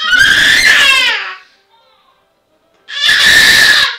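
A child lets out two loud, shrill screams close by, each lasting about a second, separated by a quiet gap.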